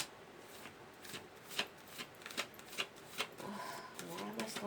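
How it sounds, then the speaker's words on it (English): A deck of tarot-style cards is shuffled by hand in a quiet room, with irregular soft riffles and taps repeating, faint and close, with a voice briefly murmuring near the end. "I don't like cards to fall out when I just started shuffling."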